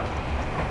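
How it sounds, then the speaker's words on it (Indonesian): A train rumbles past close by, a loud continuous roar of wheels on rails over a brief moment. "ada kereta."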